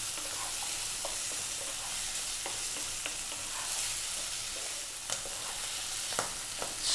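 Cooked chickpeas with turmeric and spices frying in a pan, giving a steady close sizzle broken by the light scrapes and taps of stirring, with no voices.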